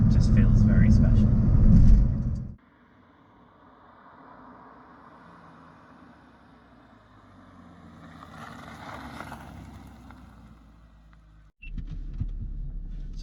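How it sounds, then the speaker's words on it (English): A Chrysler Crossfire at Curborough Sprint Course near Lichfield, with a loud, close engine roar at the start, a long stretch of subdued low rumble, then the loud engine returning abruptly at the end. "I'm here at Curborough Sprint Course near Lichfield in my Chrysler Crossfire"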